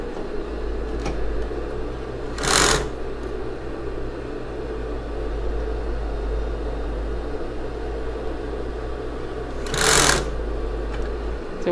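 A sewing machine stitches elastic lace onto a bra, humming steadily up close with a constant motor drone, broken twice by short bursts of louder stitching and fabric handling before settling back.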